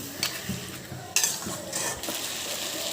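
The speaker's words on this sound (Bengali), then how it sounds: "সেদ্ধ আলুর তরকারি আমি অনেকক্ষণ ধরে কষিয়ে নিয়েছি" Boiled potato curry is sautéed in a pan, with a continuous close sizzle broken by spatula scrapes and a sharp clank of utensil on metal, and no one talking.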